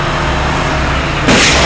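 Cars rushing past a cab on a road during a film stunt, a steady loud roar of traffic close by that swells suddenly near the end as a vehicle passes.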